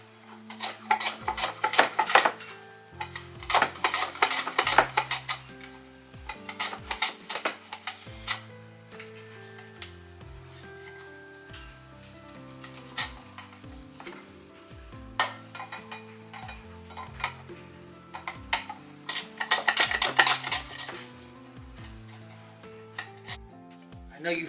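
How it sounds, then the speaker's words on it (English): Strong onions being sliced thin with a knife, bursts of crisp rasping cuts with knife taps on the board, close and moderately loud, separated by quieter pauses, with no talk. "now we're going to slice the onions. We're going to slice them pretty thin"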